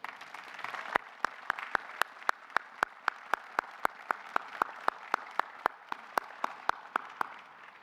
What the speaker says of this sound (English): let's please give him a congratulatory round of applause